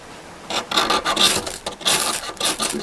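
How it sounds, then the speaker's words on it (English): A screwdriver used as a scraper rasps along a ferro fire rod in repeated strokes, each a bright, gritty scrape close by, about five passes in under three seconds with brief pauses between. "for this I have built that screwdriver as a scraper"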